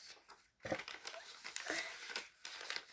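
Paper is folded and creased by hand at close range, making faint, intermittent crinkles and rustles.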